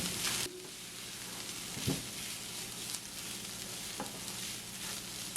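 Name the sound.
banana blossom stir-frying in pan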